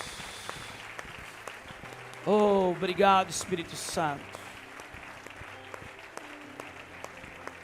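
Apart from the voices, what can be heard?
applause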